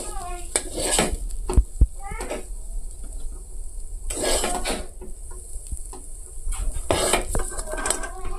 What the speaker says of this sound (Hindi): छतु भजाटा काढ़ी देमा एबे।